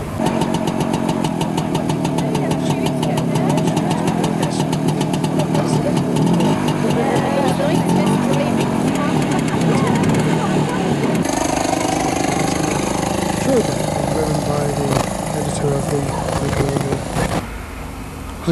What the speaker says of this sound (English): Here you see a Brockhurst Corgi scooter.